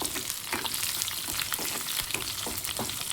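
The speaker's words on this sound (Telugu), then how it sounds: "ఇంకొంచెం ఫ్రై అవ్వాలి." Cumin, dried chillies, crushed garlic and curry leaves fry in hot oil for sambar, a dense, continuous close sizzle broken by soft stirring clicks, with no voices.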